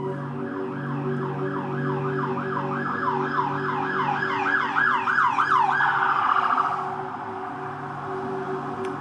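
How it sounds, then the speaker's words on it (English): A wailing emergency vehicle siren sweeps up and down steadily outdoors, loud and continuous, then shifts into a faster yelp pattern near the end over a constant low traffic hum. "it sounds so crazy with all the sirens sometimes."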